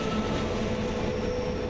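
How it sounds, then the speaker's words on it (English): A train of Glacier Pullman Express cars hauled by the historic 1928 Bernina Crocodile electric locomotive number 182 on an alpine Swiss railway, heard as a steady, close rumble of rolling wheels and running gear with no voices. "we again used the Glacier Pullman Express cars hauled by a unique and historic Bernina Crocodile electric locomotive number 182"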